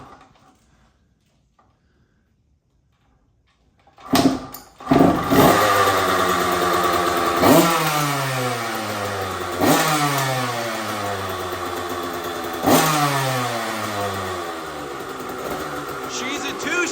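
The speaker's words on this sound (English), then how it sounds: "Now we're gonna give it a quick start." A 2007 KTM 85 SX two-stroke dirt bike kicks into life after a quiet start, then idles loudly up close with repeated sharp revs that climb and fall back, the choke-related bogging heard as uneven throttle surges.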